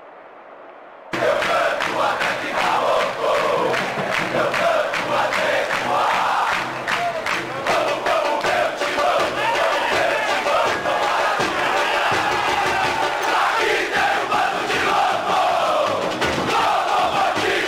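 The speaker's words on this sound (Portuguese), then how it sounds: "A torcida está nervosa, Prieto." A football stadium crowd in the PES 2010 video game during a Corinthians versus Bahia match roars and chants continuously and loudly, with occasional thumps and swells, after a brief quiet start.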